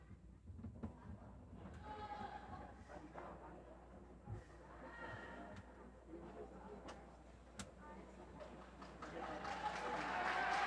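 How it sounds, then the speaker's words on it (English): A wushu competition crowd cheering and applauding a girl's daoshu broadsword routine, the noise rising to a loud swell at the end, with a commentator's voice heard over it. "The crowd is cheering her on"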